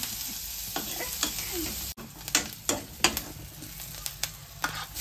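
Tomato and home-ground masala frying in a pot for dal, a close crackling sizzle broken by sharp scraping and tapping strokes of a spoon.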